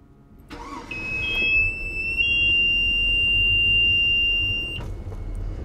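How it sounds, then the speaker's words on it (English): Boat engine oil alarm: a steady high electronic beep that holds for about four seconds over a low idling engine rumble, starting with a short click and ending abruptly, with no one speaking. "That's just the oil alarm."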